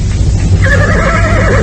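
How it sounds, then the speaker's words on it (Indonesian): Horse neighing, a loud, close whinny that starts partway in and wavers to the end over a low rumbling background. "tiba-tiba terdengar ringkik kudanya"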